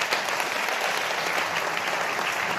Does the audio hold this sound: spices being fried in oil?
no